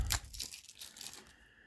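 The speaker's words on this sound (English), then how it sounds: "More satisfyingly taking plastic bits off" Plastic packaging being torn off a Scosche 3-in-1 phone mount: a sharp, loud rip at the start, then softer crinkling and crunching that fades out, close and alone without talk.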